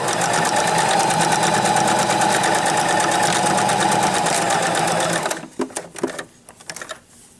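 Loud, fast continuous whirring of a sewing machine back stitching a duck pillow, running for about five seconds before stopping, followed by a few soft handling clicks and rustles.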